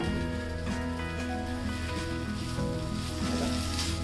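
Methi rava dhokla shallow frying in a pan gives a steady, close sizzle throughout, with tonal background music running over it.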